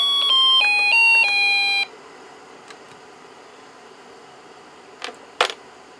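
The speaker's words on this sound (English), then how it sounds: "when we press this, of course the music IC comes up nice and loud." A Snap Circuits music IC plays a short electronic melody of bright beeping tones, loud and close, then cuts off, leaving faint hiss and a couple of small clicks.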